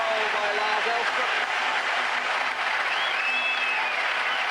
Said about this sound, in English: it brings applause from the Danish bench. And not surprisingly, from all the crowd here in the Idraetsparken